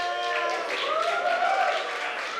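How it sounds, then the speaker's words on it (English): Wrestling crowd at a live event in Melbourne clapping and cheering steadily, a continuous wash of applause with voices mixed in, moderately loud throughout. "You gonna fucking clap for that?"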